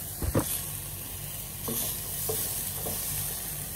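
Chicken pieces sautéing in a pan for Filipino tinola, giving a steady soft sizzle and frying hiss with a few brief stirring clatters near the start, close and moderately loud, with no talking.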